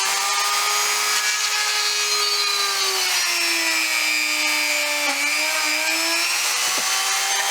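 A power drill bores holes into the wooden neck of a table puppet, a steady high whine with shifting pitch as the bit bites into the wood, loud and continuous.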